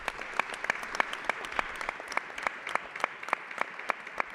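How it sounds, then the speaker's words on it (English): Sparse audience applause for conference speakers at a Mediterranean cities conference in Barcelona, a small group clapping in a steady scattered rhythm of distinct claps, moderately near with no talk. "I would kindly ask you for a general applause for the speakers and for my"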